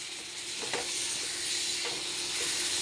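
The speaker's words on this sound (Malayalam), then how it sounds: "കുറച്ച് വിനാഗിരി ഒഴിച്ച് ഇനി കൊണ്ട് ഇളക്കിയിട്ട് നമുക്കൊരു പ്ലേറ്റിലേക്ക് മാറ്റി ഇടാം." Pickle being stirred in a pan after vinegar is poured in, a steady hissing sizzle with a couple of soft scraping stir strokes rising briefly from it, close by and without speech.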